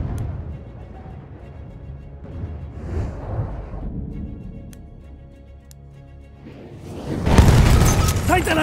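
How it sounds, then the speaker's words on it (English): A grenade explodes with a loud, broad boom near the end in the video game Battlefield 1, following quieter battlefield ambience and faint clicks, with voices talking earlier. "Throw the grenade, watch it!"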